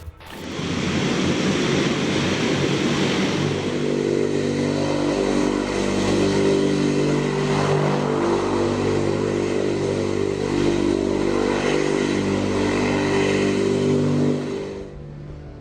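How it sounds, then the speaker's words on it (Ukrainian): An NK-12 turboprop engine of a Tu-95 bomber runs with a loud, sustained droning roar and steady harmonic hum, starting abruptly and holding for about fourteen seconds before cutting off. "Це двигун НК 12 Свого часу його розробили спеціально для літаків Ту-95"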